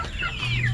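A Kabir gamecock rooster gives a short, close cluck against a low background hum, brief and fairly loud.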